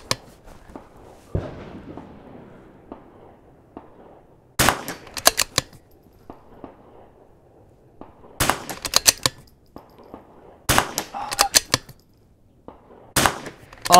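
Rimfire rifle shots ring off a steel target as sharp, isolated cracks in small clusters of two to four, separated by quiet pauses with faint background rustle.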